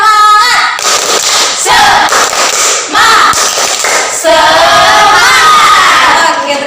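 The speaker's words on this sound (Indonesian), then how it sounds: "ayo tepuk semangat. Tepuk semangat." A classroom of children doing a spirit clap chant, loud shouting voices and clapping in rhythmic bursts close by, filling the whole clip.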